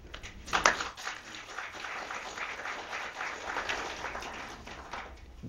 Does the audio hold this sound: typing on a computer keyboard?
no